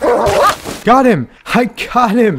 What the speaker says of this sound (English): Why is this dog barking like that?